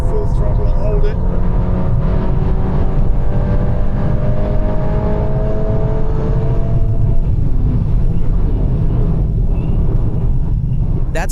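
A Volkswagen Golf 8 accelerating at full throttle, a steady engine drone and road rumble heard from inside the cabin, with a person talking over it.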